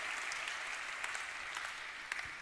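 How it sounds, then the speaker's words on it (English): Audience applause during an evening keynote at an industry-day reception, a steady broad clapping wash from a large crowd with no voices on top. "An applaud for the world."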